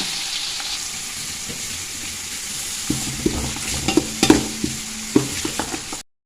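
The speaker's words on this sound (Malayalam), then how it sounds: "ഇനി ഉള്ളി ഇട്ട് കൊടുക്കട്ടെ ഒരു ഉള്ളിയാണ് ഒരു വലിയൊരു ഉള്ളി" A large onion goes into hot oil with whole spices for Bukhari rice, bringing a soft sizzle and then a burst of close metal spoon clinks and scrapes against the pan.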